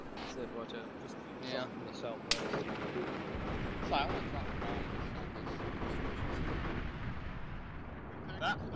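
Distant gunfire during a military simulation (milsim) airsoft game, heard as scattered sharp cracks from far off, one louder, while people talk nearby over the radio and field noise.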